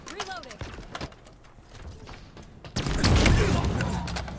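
Gunfire in the video game Vermintide or Halo Infinite: a short burst of shots with a dense, loud rumble of fire in the second half, mixed with game sounds and players chatting.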